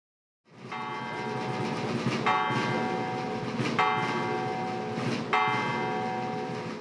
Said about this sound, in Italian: il suono delle campane